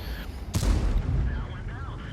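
A tank's main gun fires once in an online tank battle game, a sharp close blast with a rolling low-frequency rumble, while a voice talks quietly underneath.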